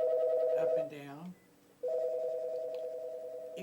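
Toshiba office telephone ringer trilling in steady electronic bursts, a short pause breaking the ring before it resumes loud and close, with no voices.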